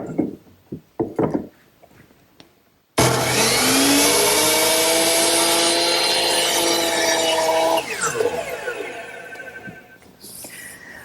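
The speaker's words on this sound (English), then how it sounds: "So I'm going to use my power miter box to make that cut" A power miter saw cuts through wood for a garden bench armrest, a loud sustained whining buzz that starts abruptly after a few faint knocks, then tapers as the blade spins down.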